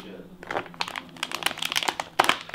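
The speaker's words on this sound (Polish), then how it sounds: "Teraz właśnie otwieramy paróweczki." Plastic packaging of sausages is torn open up close, giving crisp crinkling and crackling in irregular bursts, with a sharper rip near the end.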